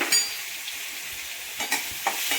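Cumin, crushed green chili paste, ginger and garlic sauté in hot oil, giving a steady close sizzle with a few stirring scrapes and small spikes near the end.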